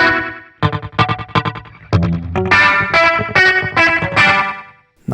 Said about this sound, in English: Slapback delay.